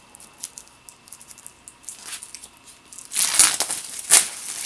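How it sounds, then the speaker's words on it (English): Thin shrink wrap is cut and peeled off a hard-cover limited edition 3DS game box. Light crinkles and ticks build into a louder rustling tear near the end, close up and with no talking. "So let's just remove the shrink wrap."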